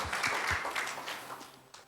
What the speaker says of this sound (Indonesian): Yang bersuka cita boleh tepuk tangan bagi Tuhan Yesus.